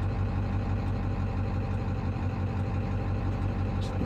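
A Powerstroke diesel pickup with Stage 1 injectors and a mild tune, towing a load: a steady, low engine rumble that holds an even drone throughout, moderately quiet and without talk.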